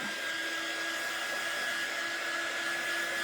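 A hair dryer blows on chalk paint on a handmade table-leg snowman, a steady close-up whirring hum with a constant pitched whine and no talk.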